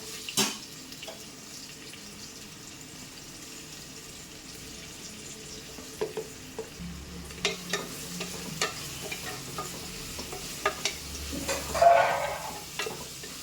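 Onions going into hot palm oil in a pan for biryani, a low steady sizzle with occasional stirring scrapes and clinks that grow busier and louder toward the end, with no talking.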